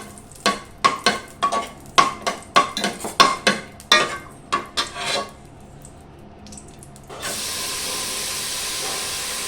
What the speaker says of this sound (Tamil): ஊற வச்ச பாசி பருப்பை இந்த நெய்யில் வறுத்துக்கலாம்.